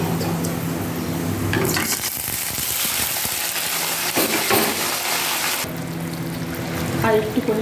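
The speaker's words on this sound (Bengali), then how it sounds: "ভালো করে মাছগুলোকে মেখে নিয়ে মশলার সাথে একেবারে আমি তেলের মধ্যে দিয়ে দেবো" Spiced pabda fish hits hot oil in a pan with a burst of loud sizzling and spattering, rising suddenly and then settling to a steady fry, with a few utensil scrapes and stirring noises.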